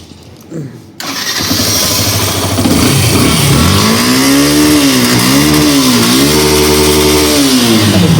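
A used 2022-model motorcycle engine starts up and idles loudly nearby, then revs up and down several times in smooth swells.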